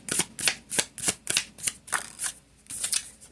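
A deck of tarot cards is shuffled in about ten quick riffling bursts, close and crisp, with brief pauses between each pass and no talking.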